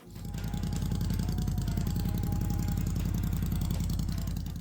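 A Triumph Bonneville Bobber motorcycle engine runs steadily and close, a deep, loud, even throbbing rumble held at a constant pace with no voices over it.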